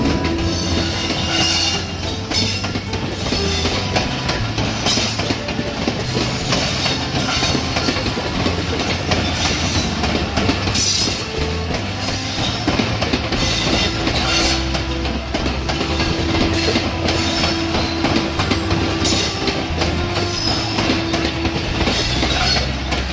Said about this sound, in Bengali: 733 up Titumir express Akkelpur railway স্টেশনের 1 নম্বর লুপ লাইন দিয়ে প্রবেশ করছে